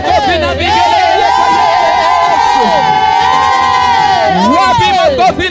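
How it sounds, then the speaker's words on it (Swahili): A congregation at an African praise worship session cheers, ululates and shouts loudly and continuously, with long warbling ululation ringing out above the crowd noise and voices. "Wapi makofi na vigelegele?"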